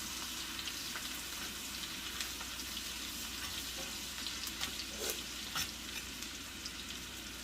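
Steak and shrimp sizzle in butter in a hot cast-iron pan, a continuous, dense close-up frying hiss with a few faint taps and spatters, no voices.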